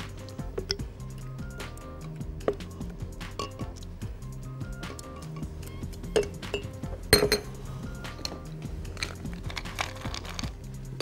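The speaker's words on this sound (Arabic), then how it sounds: "مكعبات التلج" Ice cubes clink against glass while a strawberry-syrup kiwi soda drink is mixed, with scattered light, sharp taps and chimes at irregular intervals, fairly quiet and close, with no talk.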